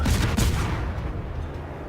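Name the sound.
naval guns firing in World of Warships video game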